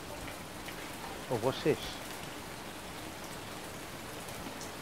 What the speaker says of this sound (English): And I can still hear the rain